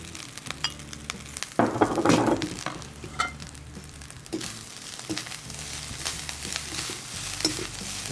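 Leftover cooked rice sizzling in a pan as it is stirred into garlic masala with onions, a steady frying hiss broken by scraping stirs and a louder burst of crackling near the start, close and with no talking.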